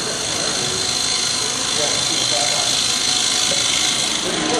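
Wood lathe turning a bowl as a cutting tool slices straight down to form a dovetail mortise; a steady, loud, continuous whirring grind with a dense tool hiss, running without pause throughout.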